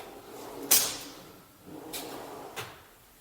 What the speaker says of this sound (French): Donc, toutes les armoires, tous les tiroirs ont des amortisseurs.